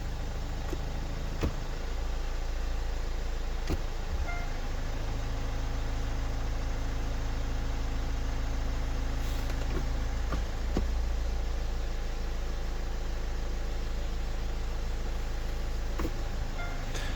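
A Hyundai car engine runs steadily at idle in a garage during a transmission service, a low, even hum held for the whole stretch with a few faint clicks and knocks, no talk.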